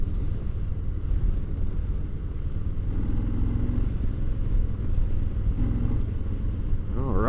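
A Harley-Davidson Low Rider S motorcycle cruises along the road with a low, steady engine rumble and wind noise, heard close from the rider's position throughout.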